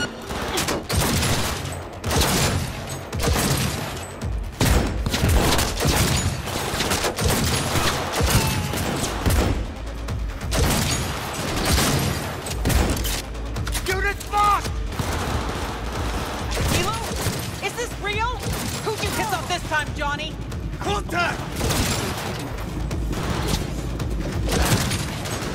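Heavy gunfire in the video game Cyberpunk 2077 during a firefight: dense, continuous volleys of shots and booming impacts, loud and relentless throughout, with brief voices and mechanical clatter mixed in.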